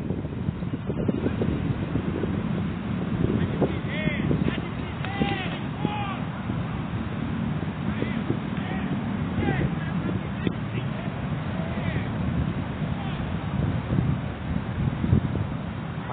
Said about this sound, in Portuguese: muito vento, um pouquinho de frio.